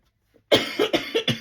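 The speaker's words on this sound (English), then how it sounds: "I'm coughing too much today." A person coughs in a quick series of about five sharp, harsh bursts, close and fairly loud, after a brief silence in a warm room during a paper-crafting session.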